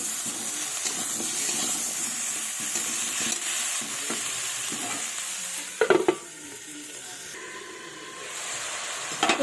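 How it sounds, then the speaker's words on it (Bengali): A pan of cauliflower and potato with turmeric powder is stirred over the heat, a soft steady sizzle with scraping spoon sounds and a few sharp clanks near the end. "দিয়ে ভালোভাবে এভাবে নেড়ে চেড়ে একটু ঢাকা দিয়ে দেবো।"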